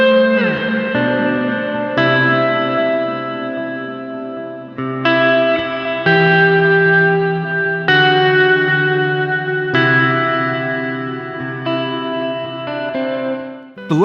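Sustained clean guitar chords through a Sonicake Levitate delay and reverb pedal change every couple of seconds, each one trailing into repeating echoes and a spacious reverberant wash.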